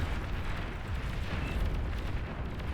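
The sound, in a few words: Tsar unit firing in Beyond All Reason video game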